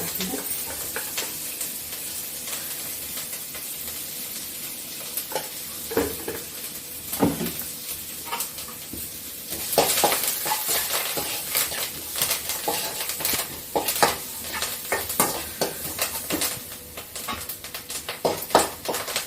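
Pigeon peas sizzle steadily in hot oil in a pan while being tempered, with crackling pops and occasional louder bursts as they are stirred and scraped.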